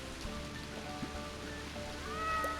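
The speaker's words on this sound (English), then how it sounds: "rain sounds like it's got heavier again" Steady rain hiss from a video game, growing heavier, spread across a soft tonal music bed with no voices.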